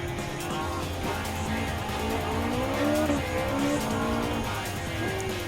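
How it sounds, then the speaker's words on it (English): A Ferrari Dino 246 GT races in Gran Turismo 7 during a Ferrari circuit challenge, its engine note rising and falling through gear changes with brief tire squeal, loud and continuous among other race cars. "here comes the Trailblazer on the 16th place in the Dino 246 GT"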